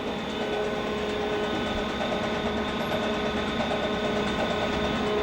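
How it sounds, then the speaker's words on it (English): A rotating shredder with its gears turning, a Williams pinball machine mechanism, gives off a steady, continuous mechanical hum and whir at a constant level, with no speech. "This tells the Williams computer that the shredder is rotating."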